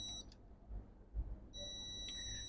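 A multimeter in continuity mode beeps steadily while probing a shorted PP3V42 power rail on a MacBook Pro logic board, a high electronic tone that cuts out briefly mid-clip and then resumes, fairly quiet and with no talking.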